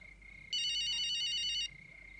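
A telephone ringing with a single trilling electronic ring burst of about one second, bright and warbling over a faint steady hum, fairly close with no speech.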